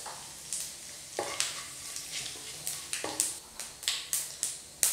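Cumin, cinnamon and cardamom sizzle in oil left over from frying chicken, a steady low crackle broken by repeated sharp bursts and stirring taps, heard close with no talking.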